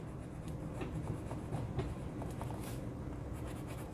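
A Moonman M200 fountain pen with a fine Schmidt nib writes on paper, giving a soft, continuous scratchy rubbing with small strokes and pauses, close and quiet.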